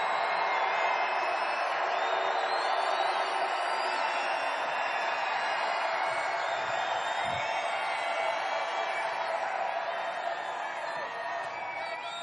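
A large crowd at a Donald Trump rally in Denver, Colorado roars and cheers in a dense, continuous wash of voices, with scattered whoops rising above it.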